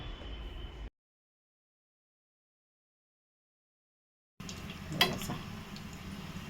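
Batata vada frying in hot oil, turned over with a small spoon: a soft, steady sizzle, briefly cut to silence, then resuming with a light clink of the spoon against the pan.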